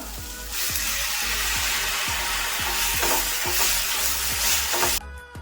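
Tomatoes frying in a pan with onion for sambar give a steady broadband sizzle, with regular scraping knocks from stirring about twice a second. The sizzle drops off sharply near the end.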